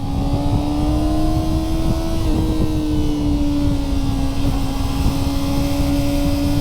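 Kawasaki ZX-4RR sport bike engine, heard while riding with rev matching, gives a loud, sustained high-pitched whine that rises and dips slightly as the revs shift, with steady wind rush underneath.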